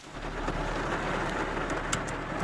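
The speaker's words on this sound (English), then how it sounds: "It's raining pretty bad." Heavy rain pours steadily, a dense even hiss of drops with a low rumble underneath and occasional bird chirps.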